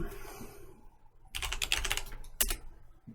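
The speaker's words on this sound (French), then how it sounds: "Et là, on va taper flame." Short bursts of computer keyboard typing, a quick cluster of keystrokes followed by a single sharper tap, close and clear over quiet room noise while a word is entered in Blender.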